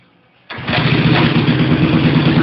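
A car engine with a newly installed camshaft starts up and settles into a loud, steady, rough run for break-in, close by and continuous with no talk.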